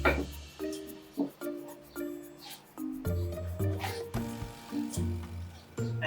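Carrot, celery and onion are roughly chopped into chunks with a knife on a board, producing soft uneven thuds and cuts spaced irregularly, close and fairly quiet, with faint background tones.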